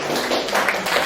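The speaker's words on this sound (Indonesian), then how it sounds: "Oke, beri tepuk tangan dulu buat kuliah." Brief round of clapping from a seated group at a teachers' dissemination session, a short, fairly even patter of hands lasting about a second.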